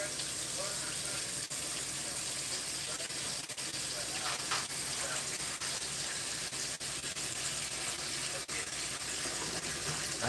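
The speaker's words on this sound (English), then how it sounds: "I'm gonna fill this other sink up so I don't keep running this water." A kitchen-style tap runs steadily into a sink as it fills, making a continuous broad rushing hiss with no breaks for the whole stretch. The sound stays moderately loud and even throughout.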